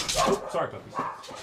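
A dog barks in short bursts during a brief moment, partly under a person talking close by.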